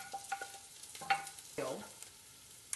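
Translucent onions and tender carrots hit the thin dark drippings left in a pan, where they sizzle faintly under a few clinks and scrapes of the utensils and a brief stirring rush.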